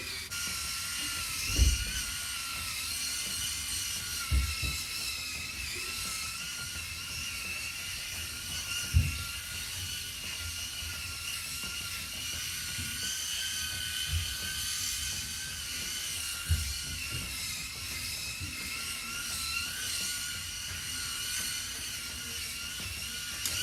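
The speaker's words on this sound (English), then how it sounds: "One thing that's really cool about these head shavers, and most of them are the same" An electric head shaver runs continuously with a steady, high buzzing whine. Soft low bumps occur every few seconds as it moves over the scalp, and no one speaks.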